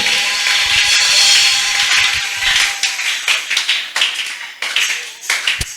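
A church congregation claps and acclaims during a French-language prayer sermon, a broad wash of applause that settles into a rhythmic series of sharp, loud claps.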